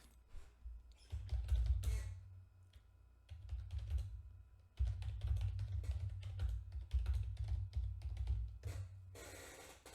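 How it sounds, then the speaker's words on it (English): Quick bursts of close computer-keyboard typing, with rapid clustered keystrokes broken by short pauses. "So you want to type in how to find bestsellers on Shopify"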